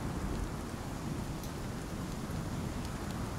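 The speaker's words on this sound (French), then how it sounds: "Ah oui, bah oui, il pleut." Steady rain falls continuously in the video game Icarus, a dense even hiss with low rumbling underneath, no voices.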